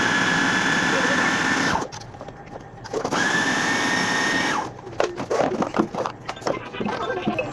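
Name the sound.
electric chopper chopping onion for seekh kabab mince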